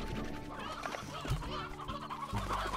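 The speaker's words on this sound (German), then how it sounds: "Und laufen hier so viele Hühner frei rum." Chickens roaming free in the video game Slime Rancher cluck steadily in a busy, continuous chorus of short, close clucks over a constant game ambience, with no one talking.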